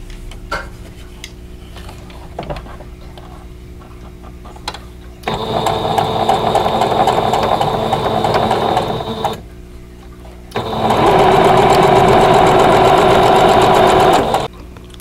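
A sewing machine stitches quilt block pieces in two sustained runs, the second louder and steadier, with quiet handling clicks and pauses in between.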